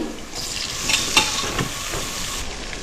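Small onions and tomatoes sautéing in a pan: an even, close frying sizzle with a handful of stirring scrapes around the middle, steady and moderately loud, no speech.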